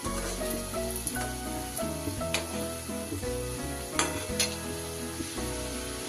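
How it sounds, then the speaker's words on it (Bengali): Fried pithe made of sweet potato and mung dal with a coconut filling sizzle steadily in oil over medium heat while being gently stirred, under a backdrop of music with occasional sharper crackles. "আমি কিন্তু মিডিয়াম আঁচে এগুলো আস্তে আস্তে করে নাড়িয়ে চাড়িয়ে ভেজে নেব"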